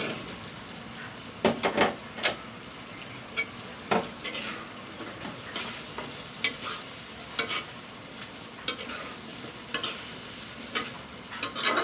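Boiled jackfruit seeds go into a frying pan and are stirred through a sizzling mixture, with soft frying hiss under repeated sharp clinks and scrapes of a utensil against the pan, close up, with no speech.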